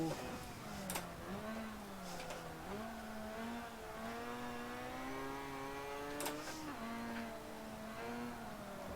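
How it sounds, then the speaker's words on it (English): An inline-four car engine in a racing game revs up and down continuously, a buzzing, steady note that rises and dips as gears shift, with brief squeals. "it's definitely not a boxer noise coming out of that car. That's like an inline four."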